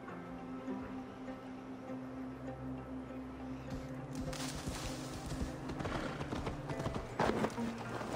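Horse hooves clop in Assassin's Creed Valhalla, a quiet start building into a steady run of clip-clop steps over low ambient music and game sounds.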